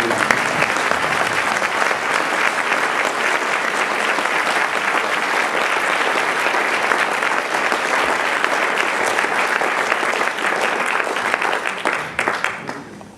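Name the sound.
audience applause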